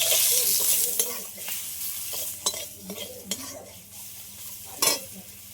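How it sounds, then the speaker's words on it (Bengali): Salted dried mango fries lightly in a pan, a hissing sizzle under repeated scrapes and clinks of a utensil against the pan, close and moderately loud, with no voices. "লবণ আমটিটা হালকা করে ভেজে নেব"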